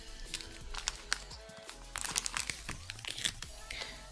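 A Magic card pack wrapper is crinkled and torn open, a close, quiet run of crackling plastic rustles and crisp tearing bursts, with short pauses between handlings.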